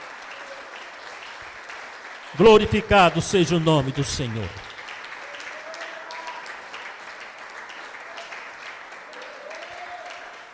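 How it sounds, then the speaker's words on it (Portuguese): Church congregation applauding during a teaching service: steady, moderate crowd clapping runs throughout the whole stretch, while someone speaks loudly over it for a couple of seconds early on. "Você pode aplaudir a Jesus por essa palavra?"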